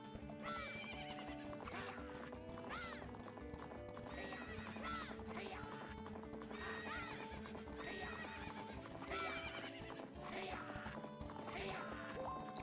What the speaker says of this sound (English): Fifth is doing the horse race while Tony did not